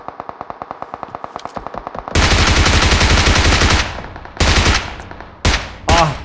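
Rapid automatic gunfire in the PUBG Mobile video game, a fast string of close shots followed by several long, loud bursts of heavy fire with short gaps, no voices.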